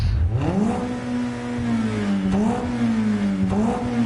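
A video game car engine revs up sharply, then cycles through repeated rising and dipping whines, loud and close.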